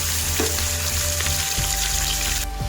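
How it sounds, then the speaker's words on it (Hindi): Close, steady sizzle of onions and chicken frying in a hot pan, with a couple of small clinks and stirring noises. "और इसे हम फ्राई कर लेंगे।"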